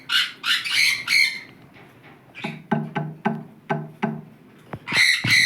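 A pineapple conure parrot gives a run of loud, close, harsh calls, first a noisy burst of squawks, then six evenly spaced sharp chirps, and a final squawking burst at the end.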